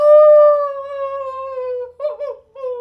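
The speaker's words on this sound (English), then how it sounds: "you hear a very loud wolf howl" A loud, sustained wolf howl in the video game No One: Vorkona rings out alone, holding a steady tone before breaking into a shorter wavering call and a final rising note.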